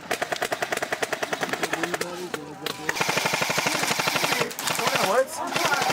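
Rapid bursts of airsoft gunfire crackle through an outdoor skirmish game, steady rhythmic volleys giving way to denser overlapping shots, with players shouting over the shooting.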